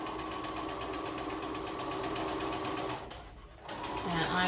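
A sewing machine runs steadily down a straight seam on fabric, a close, even mechanical whir with fast rhythmic needle chatter, briefly dropping off for a moment before picking back up.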